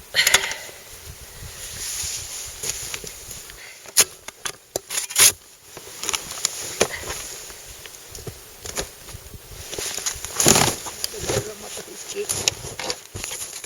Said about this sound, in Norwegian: Begynte å borre gjennom isen for å skaffe vann til bikkjene